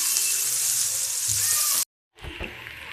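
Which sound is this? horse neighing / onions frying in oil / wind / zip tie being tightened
onions frying in oil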